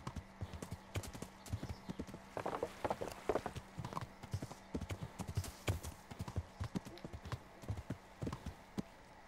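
Horse hooves in the medieval role-playing game Kingdom Come: Deliverance: irregular clip-clop steps on hard ground, close and distinct, with faster clusters in the middle and a brief soft whinny-like sound, over a faint steady background hum.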